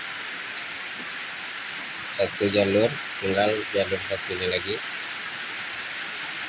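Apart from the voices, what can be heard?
rain falling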